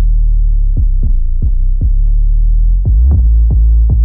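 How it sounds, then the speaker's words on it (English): A deep synth bass in a K-pop girl group track plays a sustained low drone with repeated pitch glides that swoop downward, steady and loud throughout with no voices. "It's definitely this bass glide that makes this section so cool."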